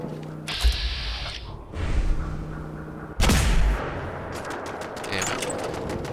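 A scoped laser musket in Fallout 4 is cranked a couple of times, giving two loud ratcheting, clanking bursts about three seconds apart over a steady bed of game ambience and effects.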